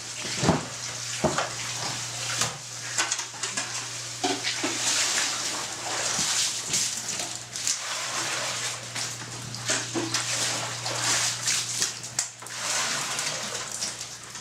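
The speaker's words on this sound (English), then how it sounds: "These machines spin the pearls out of the tissues of the oyster." Machines spin pearls free of oyster tissue in water on a Japanese pearl farm, making a steady churning, splashing wash over a low constant motor hum, with no pauses.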